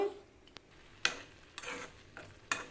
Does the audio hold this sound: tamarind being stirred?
yes